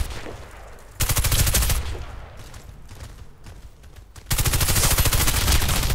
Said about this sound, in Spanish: esta arma para disparar rápido así de lejos va de cojones